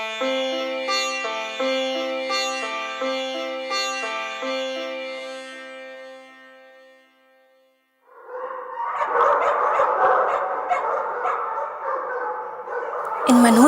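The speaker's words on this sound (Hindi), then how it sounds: "इन मनहूस कुत्तों को क्या हो गया है आज? इस तरह से भौंक रहे हैं।" Dogs barking in a courtyard at night, a burst of yaps and whimpers arriving after a stretch of tonal music, fairly loud and close with some clutter around them.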